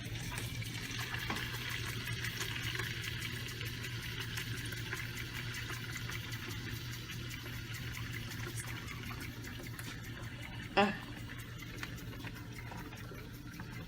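Cold water runs into a bowl that is being filled for yarn dyeing. The flow makes a faint, continuous hiss that stays even throughout, with one brief clink near the end.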